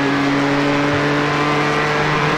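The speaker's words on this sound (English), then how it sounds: "That's what the exhaust of the Ford sounds like." Ford GTE race car exhaust in the iRacing sim at Daytona Road Course, a steady loud engine drone with sustained tonal harmonics throughout, no talk.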